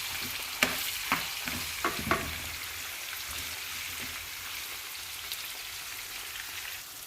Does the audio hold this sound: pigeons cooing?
no